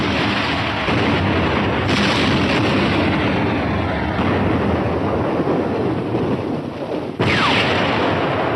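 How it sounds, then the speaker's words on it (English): A sustained, heavy roar of bomb explosions dropped on a transport in wartime, dense and continuous across the whole stretch with a few abrupt shifts in intensity, loud and close, with no talking. "From the sound of the explosions, they missed."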